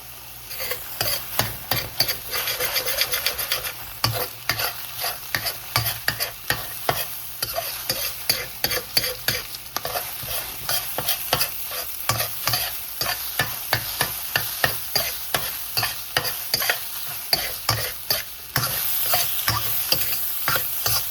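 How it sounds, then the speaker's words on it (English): One large egg frying in a hot pan while fried rice is made, a steady loud sizzle broken by frequent sharp crackles and spatters, with a brighter hiss swelling near the end. "We're gonna fry up the egg real quick"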